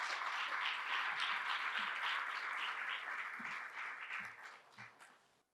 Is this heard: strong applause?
yes